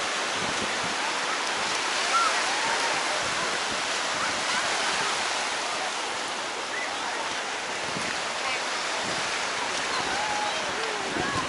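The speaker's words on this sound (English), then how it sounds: "This is probably the waviest it gets because of this wind" Continuous roar of surf and wind at Clearwater Beach, Florida, on a windy day, a broad steady wash of waves without distinct breaks, fairly close and loud.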